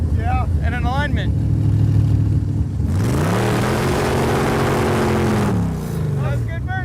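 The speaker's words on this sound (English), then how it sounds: "That's good burnout. Kind of loud." Home-built kart made from a 1985 C4 Corvette doing a loud burnout: a sustained roaring engine with rising and falling harmonics and broadband tire hiss, following a stretch of talking.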